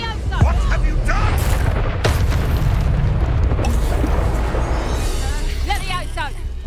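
Spell explosions in the Hogwarts Legacy video game, loud booming blasts and bursts over a continuous rumbling din, with voices shouting spell incantations throughout.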